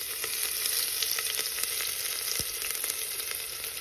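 Chopped onion hits hot oil with curry leaves over a high flame, throwing up a loud, dense, steady sizzle that never lets up, with no voices over it.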